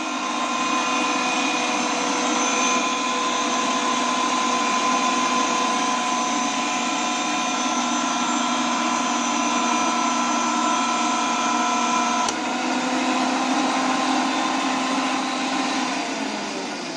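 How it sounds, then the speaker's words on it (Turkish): Fully automatic pipe threading machine cutting threads on steel pipe with a die and cutting oil, a loud steady whining motor drone with a sustained grinding tone, continuous throughout with one brief click partway. "makinemiz borumuza dişi açtı"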